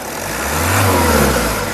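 A 2017 Toyota Etios GD diesel car with its engine revved up once, rising to a steady roar and easing back down, close by with no talk.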